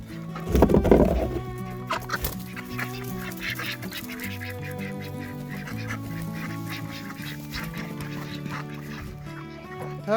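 Farm ducks calling on a small homestead, a loud burst of overlapping honking quacks up close at the start, then a steady chatter of repeated nasal calls that continues throughout.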